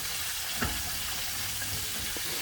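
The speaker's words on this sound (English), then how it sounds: "We're just going to constantly stir it." A flour roux stirred constantly in a pan over medium heat for buffalo chicken tenders: a soft, steady sizzle runs throughout, with a couple of faint scraping knocks from the utensil and no talking.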